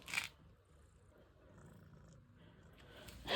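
A cat's soft, low purr rumbles faintly and steadily close by, with a couple of brief louder noises at the start and end.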